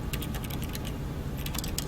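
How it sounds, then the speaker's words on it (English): Rapid, steady keyboard clicking from The Stanley Parable video game, a continuous run of light key presses heard close and alone without any voices. "Like with my mouse, I hear clicking from a keyboard."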